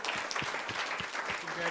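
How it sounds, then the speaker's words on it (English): Applause from the audience at a city council meeting, a brief burst of clapping mixed with voices talking over it, fairly close and steady. "one more round of applause for Tim and Abby"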